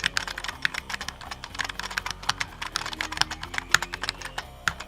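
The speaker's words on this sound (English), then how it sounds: "So let's hear this keyboard." Rapid, uneven typing on a heavy metal computer keyboard, each keystroke a sharp clack, with denser bursts and occasional louder thumps, close and clear with no voices.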